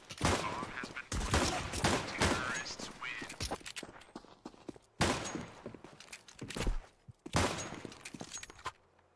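Rapid bursts of gunfire from Counter-Strike 2, loud and close, with several sharp volleys separated by brief pauses and a few thuds.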